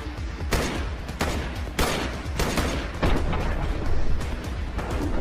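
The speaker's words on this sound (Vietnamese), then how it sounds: "Hình ảnh quay chậm từ cái súng M14 nhá." Real M14 rifle fire: a rapid string of about half a dozen sharp, loud cracks at close range, each followed by a short echoing tail, with no talking.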